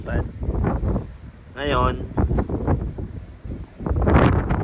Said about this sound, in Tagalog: Hapdi na ng mata ko kasi lakas ng hangin, so yung tubig alat nalilipad.